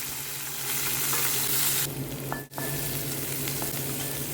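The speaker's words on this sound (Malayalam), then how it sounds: "ഒരു പച്ചമുളക് കറിയും ചേർത്ത് ഒന്ന് വഴറ്റി കൊടുക്കാം" Shallots, onion and a green chili sauté in a pan, a steady, fairly quiet sizzle hissing throughout, with a brief dip and a faint thin tone partway through; no talking.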